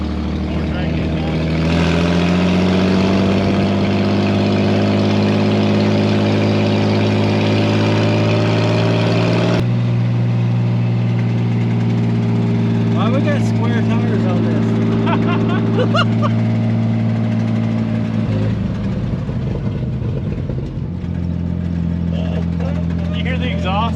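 A 1954 Plymouth Savoy engine idles with a steady, loud, droning exhaust note that shifts pitch slightly partway through and keeps a deep continuous hum throughout.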